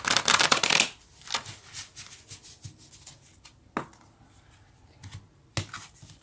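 Spirit animal cards are shuffled by hand, with a dense riffling burst at the start followed by scattered crisp card taps and slides, close and clear with no talking.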